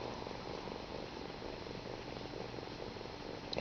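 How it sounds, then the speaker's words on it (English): Soft, rhythmic purring from a small kitten while she is cuddled, a close, steady rumbling drone in regular breaths with no talking. "She's purring madly."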